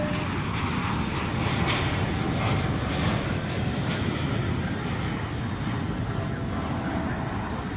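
Boeing 787 Dreamliner taking off from a busy airport, a loud, steady jet engine roar filling the whole stretch without letup.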